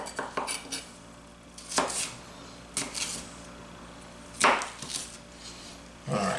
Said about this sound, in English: Sometimes it's hard to cut green pepper just because, you know, they're kind of slippery and hard